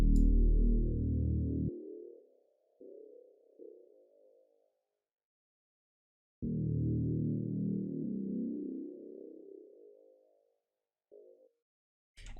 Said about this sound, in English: this now filters out the bass frequencies